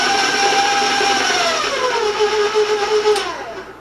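An electric stand mixer beats cookie batter with vanilla, a steady whirring motor hum whose pitch sags slightly as the load changes, near and with no talk over it.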